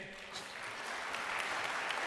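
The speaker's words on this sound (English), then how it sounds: "we had to work for that applause" A crowd applauding steadily at a church service, dense clapping that builds slightly and holds, close and fairly loud.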